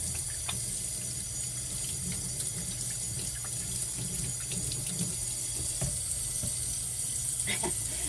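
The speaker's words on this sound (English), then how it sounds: "Let me wash my hands real good" Tap water runs steadily into a sink while hands are washed after handling poultry, a constant close rush with faint splashes and small clicks throughout.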